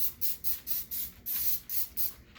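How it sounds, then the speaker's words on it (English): Cooking spray is sprayed onto a baking pan in seven quick, hissing bursts of even length, close and fairly quiet, with short gaps between each spritz and no talking. "So before we get to anything else, I always spray these down."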